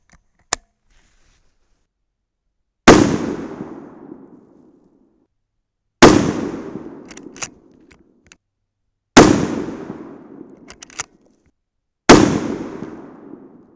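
A Savage rifle fires .308 Win rounds loaded with 110-grain Hornady Z-Max bullets and Reloder 7 powder: four loud, sharp shots spaced about three seconds apart, each trailing a long echoing decay, with faint clicks in between.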